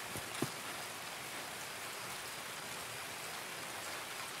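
Steady, even rain from Escape from Tarkov, a dense hiss of drops falling without pause, with one brief tick near the start and no voices over it.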